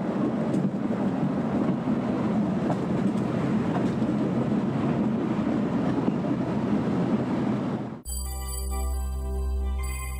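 A steam locomotive in Australia climbs a steep slope on a rack railway with cogs engaging a third rail. It gives a loud, steady, close rumbling churn for about eight seconds, then cuts abruptly to music.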